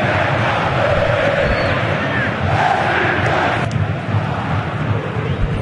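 Brazilian football stadium crowd at a Corinthians versus São Paulo match roaring in a sustained, dense wash of noise that swells briefly, loud and continuous with no clear voices standing out.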